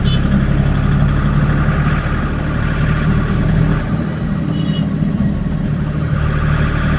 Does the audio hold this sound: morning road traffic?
yes